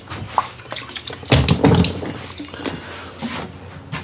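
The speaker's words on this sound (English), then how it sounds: "Let me rinse this out" Running water from a tap splashes into and rinses out a measuring cup, with bursts of splashing and sloshing close by and loudest in the middle.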